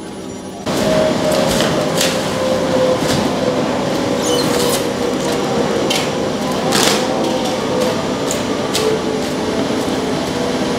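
A UV DTF roll-to-roll printing machine runs steadily nearby, giving a loud continuous mechanical whir and hum with light periodic clicks and faint tonal whines layered on top.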